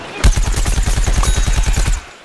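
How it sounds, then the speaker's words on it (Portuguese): A soldier's bazooka in Plants vs Zombies: Garden Warfare fires in a loud, rapid string of about twenty evenly spaced shots, close up, lasting under two seconds. "A bazuquinha aqui."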